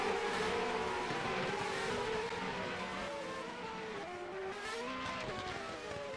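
Race cars in a Formula-style sim racing game run in a close DRS train, engines droning and shifting pitch continuously for several seconds with no talk.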